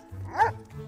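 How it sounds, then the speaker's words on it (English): An animated cartoon dog in a Pixar film gives a single short, rising bark, close and clear over a faint low hum. "learn how to bark like a real dog. Oh, I can bark."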